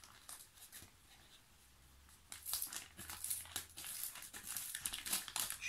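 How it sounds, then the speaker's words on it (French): Paper envelope from an advent calendar being torn and crinkled open by hand, quiet and close, a soft ripping and rustling that grows denser in the second half. "je suis en train de casser mon enveloppe"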